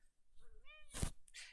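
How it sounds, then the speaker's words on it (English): A single short rising-and-falling meow from a house cat, fairly close, followed right after by a brief sharp burst of noise. "You will occasionally hear a hubby, you will occasionally hear a cat"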